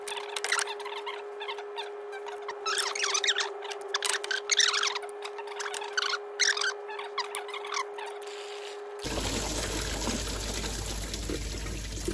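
Coolant trickles and splashes out after the water pump is cracked off a 2015 Seat Leon 1.6 TDI, close and uneven with tool clicks, then a louder steady rush near the end.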